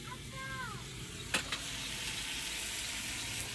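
Steady sizzle of fish frying in a pan, close and continuous, with brief clattering knocks partway through.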